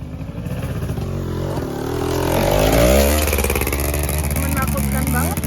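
A motorcycle engine labors and revs up loudly on a steep mountain trail on Mount Sumbing, close and continuous, with rising pitch as it climbs and rattling clatter underneath.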